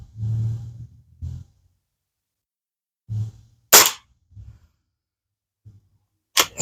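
Two sharp, loud cracks from a Hatsan air rifle ring out a few seconds apart outdoors in chilly weather, separated by quiet breathing and brief murmurs.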